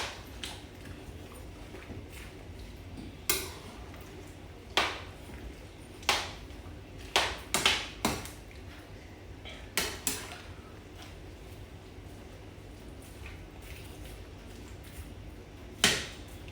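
Okra, carrot and seasoning go into a small pot for Jamaican steamed fish, heard as scattered sharp clinks and knocks of a utensil against metal, some in quick pairs, over a quiet room hum.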